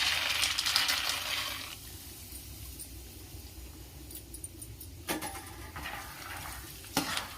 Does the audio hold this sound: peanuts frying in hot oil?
yes